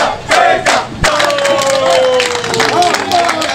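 Dense crowd noise at a gathering for Brian Kamdem at his headquarters in the Dakar quarter of Douala: loud, close shouting and cheering voices with scattered clapping, continuous throughout.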